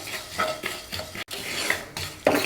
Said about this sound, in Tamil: இது நல்லா படப்படப்படன்னு பொரிஞ்சு சவுண்டு வரும்